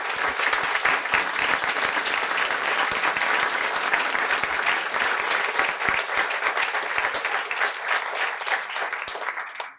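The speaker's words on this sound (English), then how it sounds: "please stand up and get a warm round of applause." Audience at a guide dog school graduation ceremony applauding, a dense, sustained wave of many hands clapping that stays loud for nearly ten seconds before cutting off abruptly.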